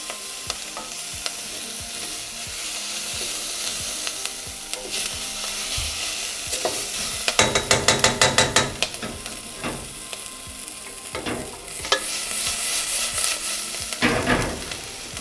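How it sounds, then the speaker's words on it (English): Garlic frying in a pan under a steady sizzle, with a spoon scraping and stirring in bursts of quick rhythmic strokes, close and clear with no voices. "And then give it a good stir."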